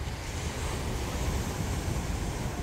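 Steady, dense roar of sea waves breaking on a beach in Turkey, continuous broadband surf wash with wind-like hiss and no voices.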